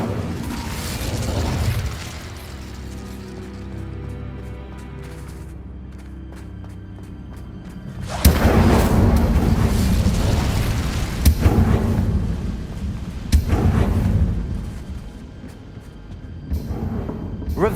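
A burst of the Incendio fire spell in Hogwarts Legacy, with loud booming blasts and crackling flame bursts repeating in several heavy waves over a low rumbling, mechanical game background.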